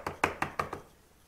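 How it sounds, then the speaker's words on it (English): Five quick raps of a knuckle on a door, evenly spaced and fairly close, fading out into a quiet room with no voices. "somebody knocks on the door."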